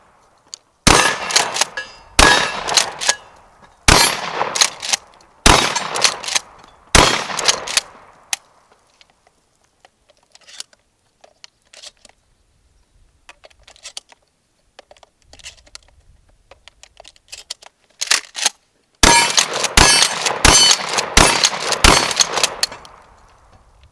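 Remington 870 shotgun firing 1-ounce Federal light recoil lead slugs at a steel AR500 quarter-scale target outdoors: a string of loud, sharp blasts in two bursts with a quiet gap between, each shot cracking hard and decaying quickly.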